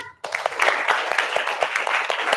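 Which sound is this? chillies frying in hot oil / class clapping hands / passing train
class clapping hands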